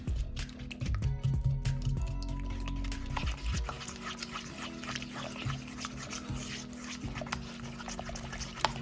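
Eggs being mixed into almond flour brownie batter, wet squishing and stirring sounds with a few taps, close and quiet.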